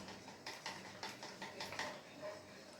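A spoon stirs cornmeal porridge mixture in a cup, giving a few faint, quick clinks and scrapes over a quiet background hiss.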